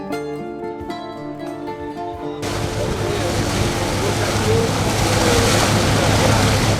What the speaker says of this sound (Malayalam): തിരകളെ കീറിമുറിച്ച് എൻ്റെ ബോട്ട് റിയോ നെറ്ററോയ് പാലം ലക്ഷ്യമാക്കി പാഞ്ഞുകൊണ്ടിരിക്കുകയാണ്